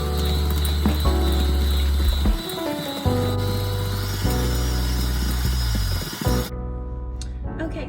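An electric mixer beats chocolate chip cookie dough with vanilla added, a loud whirring motor that shifts pitch as the beaters work, then cuts off abruptly near the end, followed by faint clatter.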